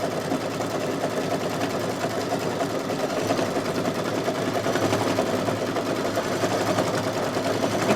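An embroidery machine stitches an owl applique block on a Halloween placemat, sewing over earlier stitching with a steady, rapid mechanical chatter that runs unbroken and close.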